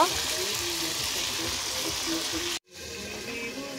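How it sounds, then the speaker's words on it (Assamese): Broiler chicken meat sizzles in a kadai with a steady, close frying hiss that cuts out briefly near the end before resuming. "এয়া বহাই দিলোঁ ব্ৰইলাৰ মাংস"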